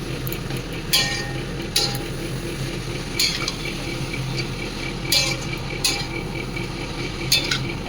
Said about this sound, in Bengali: কপিটা দিয়ে একটু নাড়বো